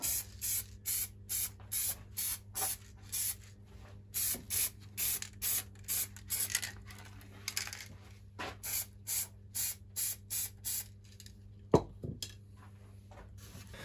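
Black paint spraying from an aerosol can onto a part of a VW Golf Mk2, short hissing bursts in a fast regular series, with a pause partway through and a couple of knocks near the end, close and without speech.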